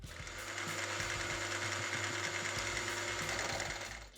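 A milling machine cuts machinist's V-blocks with a regular four-flute end mill, a continuous, even whine and rumble of cutting that holds steady throughout.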